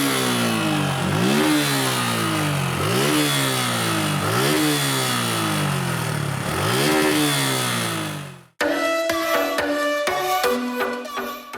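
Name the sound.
Suzuki Gixxer 150cc motorcycle engine revving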